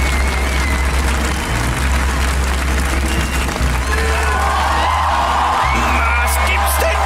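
A TV studio audience at Schlag den Raab cheers, whoops and applauds for Stefan Raab in a loud, continuous roar of crowd noise, with a heavy low rumble underneath.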